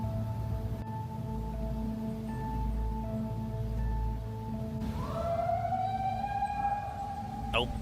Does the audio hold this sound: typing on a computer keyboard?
no